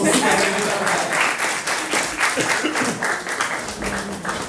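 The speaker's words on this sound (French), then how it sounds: "on va applaudir pour le Florence" A church congregation applauds Florence with loud, continuous, dense clapping that fills the room, while a voice carries on over it.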